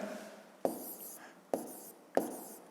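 Pen strokes on paper as a subtraction is written out in a column, with three separate short bursts of scratchy writing, each starting with a sharp tap, in a quiet room.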